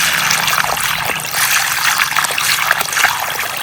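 Irrigation water pours steadily into a field channel in a Gujarati village, a loud, continuous rushing and trickling up close with no break.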